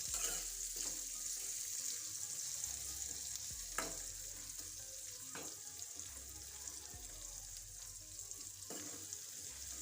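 Sliced onions frying in a pan over a low gas flame, a soft, continuous sizzle with occasional stirring scrapes and clinks, close and fairly quiet, no talking.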